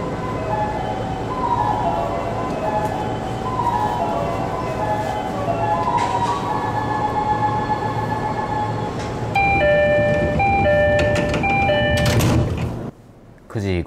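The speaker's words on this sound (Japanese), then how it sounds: "9時55分定刻より2分遅れて新白河駅を出発です。" A JR East E531 series Tohoku Line local train departs Shin-Shirakawa station, heard from inside with a steady rumbling drone, a rising electric motor whine and departure chimes before a sudden drop-off, with talking over it.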